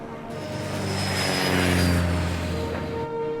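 A propeller airplane drones steadily overhead in a film scene, a loud continuous engine roar that swells to a peak near the middle and then eases slightly, with no voices.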